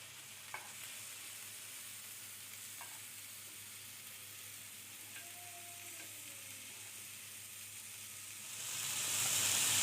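Fish frying in hot oil in a pan, a steady soft sizzle with a few light clicks, rising to a louder hiss near the end, close by and without speech.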